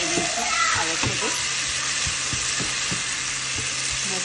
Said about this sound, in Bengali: আমি কুমড়ো দিয়ে একটু ভাজা করে নিচ্ছি